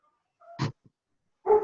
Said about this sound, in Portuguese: Tem um cachorro Camila? latindo aí.